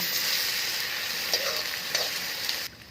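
Bay leaf, ginger and garlic frying in a pan after onions, a loud steady sizzle with a few light scrapes of stirring, then an abrupt drop near the end.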